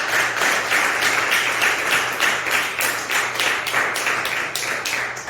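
A church congregation claps along in a fairly even rhythm, a loud run of repeated clapping bursts that lasts throughout without anyone speaking.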